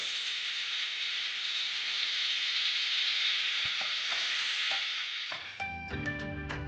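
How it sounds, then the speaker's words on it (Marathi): Chili paste and tomato sauce fry in a pan over a medium flame, giving a steady loud hiss and sizzle throughout, with a few soft clinks near the end. "आता ह्याला एक ते दोन मिनिटासाठी मीडियम फ्लेमवर फ्राय करून घ्यायचं आहे"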